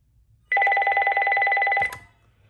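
A Uniden TRU4455 cordless phone rings once, a loud trilling electronic ring lasting over a second before cutting off with a click.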